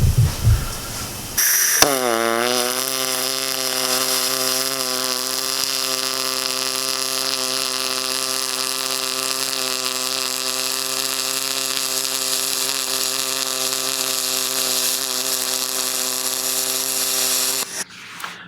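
An Everlast 253DPI welder working aluminum produces a loud, steady electric buzzing hum that starts abruptly, holds evenly for about fifteen seconds, then cuts off.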